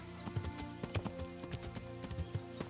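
Hooves of a galloping horse in Kingdom Come: Deliverance thud in a quick, uneven rhythm, fairly faint under a game music bed, with repeated sharp hoof strikes throughout.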